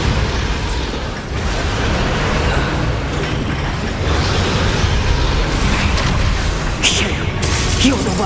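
A Bombarda blasting spell cast in Hogwarts Legacy, a dense booming burst layered over rumbling combat noise and creaks, with bright crackling flashes near the end and a voice speaking over the action.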